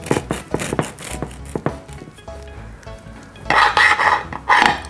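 A knife cuts into a freshly baked Easter surprise cake with a hidden star inside, giving several close taps and scrapes on a plate or board, then a louder rustling scrape near the end.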